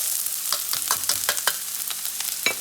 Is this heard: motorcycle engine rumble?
no